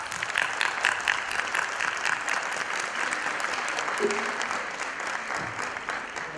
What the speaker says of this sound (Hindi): आपकी तालियां बज रही हैं